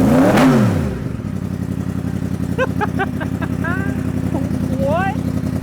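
A Yamaha MT-10 motorcycle fitted with a Yoshimura exhaust blips loudly at the start, then settles into a steady rumbling idle under scattered squeaks and whistles.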